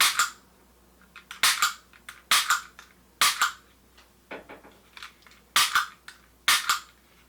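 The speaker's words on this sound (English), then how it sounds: "Then you will fire at it and it will show you where your rounds are hitting." A laser training pistol dry-fires at a target in a home training setup, giving sharp, distinct clicks in small groups of two or three, close and fairly loud, with quiet pauses between them.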